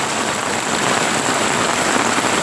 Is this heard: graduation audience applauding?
no